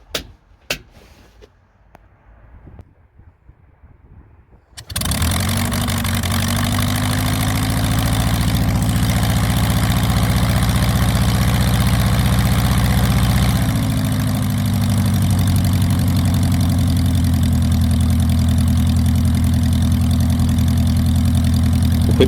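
Taylor Monoplane light aircraft engine is hand-propped, catching after a few seconds of quiet clicks and handling noise, then settles into a loud, steady idle that runs for the rest of the clip without any voices.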